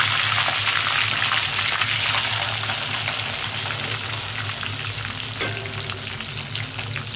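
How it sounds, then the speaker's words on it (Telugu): Dried red chilies, cumin seeds and curry leaves fry in hot oil along with garlic cloves, making a loud, steady sizzle close by that fills the whole stretch, with one brief clatter near the end and no talking. "ఎండుమిర్చి, జీలకర్ర, కరివేపాకు వేసుకున్నాను"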